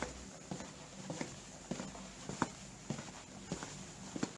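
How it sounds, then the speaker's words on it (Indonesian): Footsteps added as a sound effect for an animation, a steady series of soft, evenly spaced taps at walking pace over a faint hiss, quiet and close. "sound effect kita memberikan sound atau suara langkah kaki"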